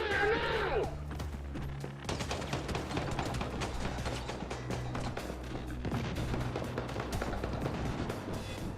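Rapid video game gunfire with dense, crackling bursts of shots that continue for several seconds, starting after a brief sweeping tone, heard at low level with a muffled backdrop.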